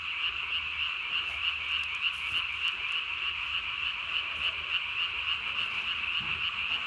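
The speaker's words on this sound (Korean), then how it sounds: "여기 상당히 많은 개구리들이 지금 뭐 합창을 하고 있습니다." A dense nighttime chorus of tree frogs croaks nonstop during breeding season, many calls overlapping into a steady, loud, buzzing wall of sound.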